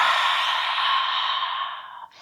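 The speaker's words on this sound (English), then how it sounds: "inhaling with the contracted throat and exhaling" A long, steady exhale pushed out through a contracted throat during pranayama breathing, a close, hissing, ocean-like rush lasting about two seconds before it tapers off.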